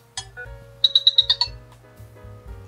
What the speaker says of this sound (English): have a listen to these ringtones.